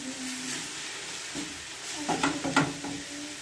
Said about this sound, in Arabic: دابا تشحرت ليا هاد السبانخ ونزلات مزيان